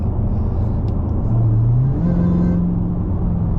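A Dodge Challenger Hellcat Jailbreak cruises in rush-hour traffic, its deep engine rumble filling the cabin while a supercharger intake whine rises in pitch over a few seconds, loud and steady, with no talking.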